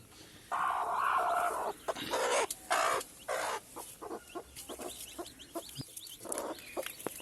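A hen kept apart with her newly hatched chicks from fourteen eggs makes repeated close clucks and soft calls in irregular bursts, with faint chick peeps between them and no speech.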